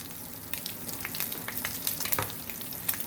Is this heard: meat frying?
yes